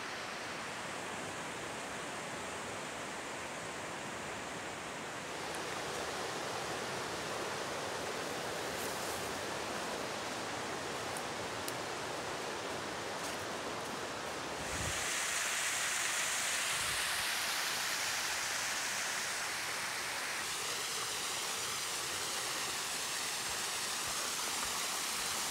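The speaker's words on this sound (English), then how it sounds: "A little water slide. Goes down to a pool." A creek runs over a small natural rock water slide into a pool beside a lush hiking trail, a steady broadband rush of flowing water, close and continuous, shifting slightly in character partway through.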